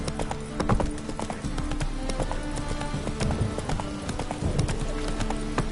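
The horse Roach trotting in the Witcher 3 video game, with steady rhythmic clip-clop of hooves, close and continuous, over a busy ambient background while a voice speaks.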